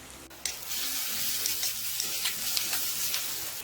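Coriander, garam masala and turmeric powders being stirred into a hot pan for a mutton chops dish give a hissing, watery-sounding sizzle with light scraping strokes; no one speaks.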